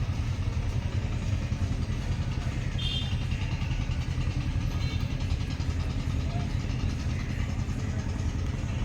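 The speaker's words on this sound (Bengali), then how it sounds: "একটা বোট আসছে" A crowded wooden motor boat (bhotbhoti) arrives at a river ghat, its engine a steady, close, low chugging drone that runs without a break, with voices mixed in.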